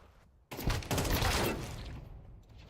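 AK rifle bursts in Counter-Strike 2 crack out in a fast, dense volley right after a brief quiet moment, loud and close, the shots blurring together before trailing off.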